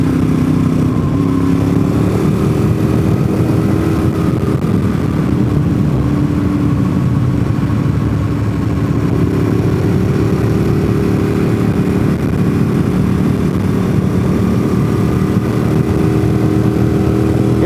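A motorcycle rides the road from NC 28 toward Deals Gap, crossing from old pavement onto a fresh patch. Its engine drones loud and steady throughout with heavy wind rumble and no speech.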